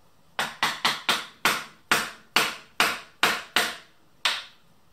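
A ripping chisel struck with a mallet to drive out upholstery tacks from the wooden frame of a Victorian button-back nursing chair: ten crisp, evenly spaced knocks close up, each decaying quickly, with no voices.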